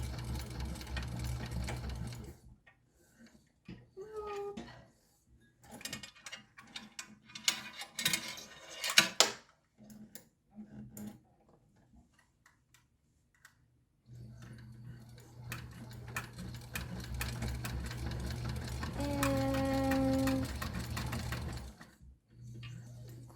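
A sewing machine stitches a messenger bag strap in parallel backstitched lines. Its motor whirs in close, steady runs broken by short pauses and softer mechanical clicks, and a long quiet gap falls before the stitching resumes.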